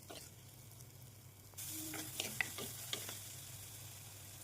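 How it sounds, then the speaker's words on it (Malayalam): Chopped shallots sautéing in coconut oil in a clay pot: quiet at first, then a steady, fairly soft sizzle swells in, broken by a few light scrapes and taps of the stirring spoon. "അതിൽ ആവശ്യത്തിന് വെളിച്ചെണ്ണ ഒഴിച്ചതിന് ശേഷം ചെറിയ ഉള്ളി ചെറുതായി അരിഞ്ഞത് ആഡ് ചെയ്ത് നന്നായി ഒന്ന് വഴറ്റിയെടുക്കുകയാണ്"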